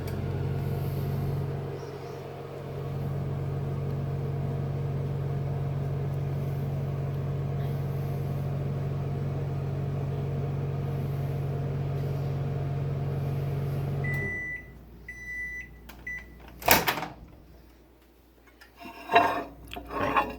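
A microwave oven hums steadily on its fan and magnetron drone for about fourteen seconds, melting cheese for Cheddar Bay biscuits, then shuts off, leaving a few beeps and door clicks in a quiet kitchen.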